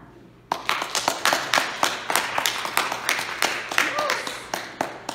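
A church congregation claps enthusiastically during a call to worship, with loud, rapid, steady handclaps from many people continuing for several seconds.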